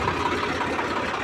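A tractor engine idles steadily with a loaded trolley hitched behind, a continuous rough mid-range rumble close by with no break.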